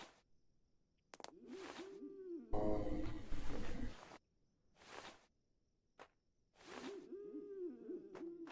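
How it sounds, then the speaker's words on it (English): A pigeon trapped indoors coos in soft, repeated throaty phrases, separated by pauses and a burst of rustling noise. "there's a bird trapped in here somewhere. I can hear, it's a pigeon and I can hear it cooing."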